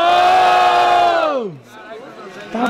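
A loud crowd roars and cheers at a rap battle in Guarulhos, São Paulo, a sustained collective shout that swells, then drops away before another rise.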